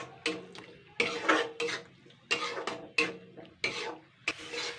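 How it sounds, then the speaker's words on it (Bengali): Pumpkin paste is stirred in a pan with a utensil, making a series of distinct scraping, rubbing strokes in an irregular rhythm, close and fairly quiet, with no talk. "তো এবার আমি এগুলোকে সুন্দর করে নাড়াচাড়া করে নেব।"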